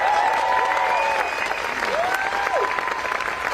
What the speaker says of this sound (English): How about another round of applause for our Governor, Michelle Luján.